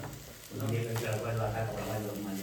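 Capsicum, peas, chopped tomato, green chili and carrot sizzle steadily in a pan, a continuous close frying hiss that rises as the vegetables go in, with voices over it.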